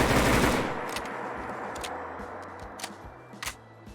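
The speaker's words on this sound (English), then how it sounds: "Let's go ahead and take a listen to a full mag dump as well as the custom animations included with this mod." An assault rifle in the video game Fallout 4 fires full-auto as a full magazine is dumped. A loud, dense burst fades into a ringing tail, followed by a few sharp mechanical clacks of reload animation, with no talk.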